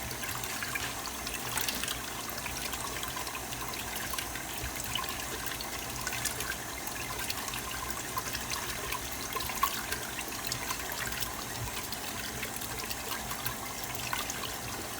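Tap water runs steadily while homemade butter is rinsed, a continuous mid-level splashing and trickling stream with no voices, holding even for the whole stretch.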